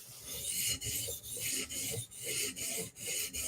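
Steel Will flipper knife blade drawn across a 400 grit sharpening stone in repeated rhythmic rasping strokes, about eight in a row with short pauses between, close and clear with no talking.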